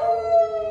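Children in a church vacation Bible school group howl together in imitation of a wolf, a single sustained, steady, loud wavering call with no talk over it.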